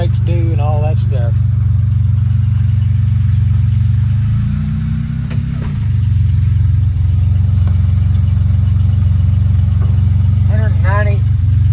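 An old barn-find car engine idles high and steady, a loud, constant low rumble that dips briefly midway, with someone talking over it at the start and near the end.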